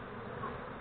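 Honey bees hum in a dense, continuous buzz during a hive transfer into a small nucleus box at a Malaysian apiary, close and steady with no talking over it.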